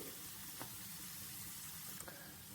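Onion and garlic frying in a pan with turmeric and coriander powder added, giving a steady soft sizzle with faint stirring scrapes and no talk.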